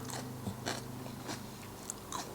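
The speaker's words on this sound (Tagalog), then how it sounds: "Ang gusto ko sa cucumber, friends, crunchy, watery." Crisp crunchy bites into a fresh cucumber, several close-up snaps and chewing in a quiet setting with no talk.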